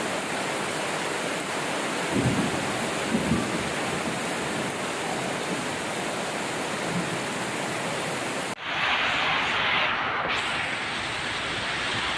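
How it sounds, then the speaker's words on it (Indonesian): A steady roar of strong wind and rain during a storm in Langsa fills the whole stretch, broadband and unbroken, shifting abruptly to a brighter hiss near the end. "Beginilah kondisi sekarang. Angin kencang."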